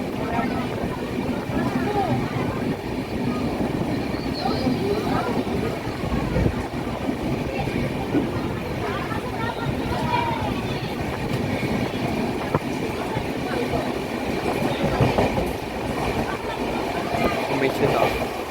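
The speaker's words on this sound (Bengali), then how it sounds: "এই মুহূর্তে আমাদের ট্রেন ঢুকছে মেচেদা।" Onboard the 22201 Duronto Express from Sealdah to Puri, the coach rumbles and clatters steadily over the rails as it enters Mecheda station, with a continuous, even roar throughout.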